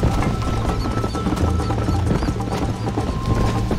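Horse hooves pounding at full sprint in the video game Red Dead Redemption, a steady dense clip-clop rhythm under game ambience and music, loud and continuous throughout.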